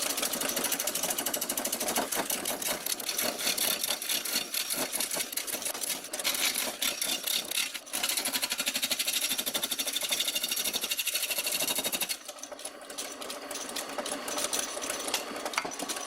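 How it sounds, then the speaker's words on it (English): A homemade gouge chisel being reground on a grinder gives a steady, harsh, close whirring grind that runs almost continuously, with a brief change in tone near the end and no talking. "I'm finished regrinding the chisel."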